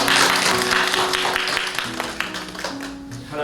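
A church congregation at a Friday worship service claps together in a dense, steady round of applause that gradually fades toward the end, with faint voices underneath.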